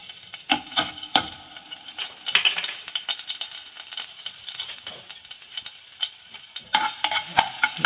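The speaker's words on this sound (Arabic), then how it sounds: "نقلب الثوم كده لحد ما يحمر معانا" Garlic fries in a couple of spoonfuls of oil while a spoon stirs it, producing a close sizzle broken by repeated scraping and clinking strokes against the pan at an uneven pace.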